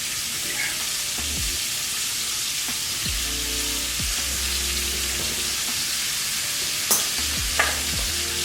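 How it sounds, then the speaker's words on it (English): Steak for carne en su jugo sears in a pot with a steady, dense sizzle throughout, broken by a few sharp utensil scrapes and clinks near the end, close and without talking. "So we're gonna put our steak into the pot"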